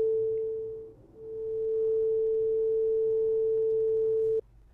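A struck tuning fork held over a resonance tube rings as a pure, steady tone for about three and a half seconds, loud and clear over faint room noise, then stops abruptly.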